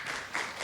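An audience applauds a professor after his talk at a university seminar. It is a brief, steady burst of crowd clapping at moderate volume.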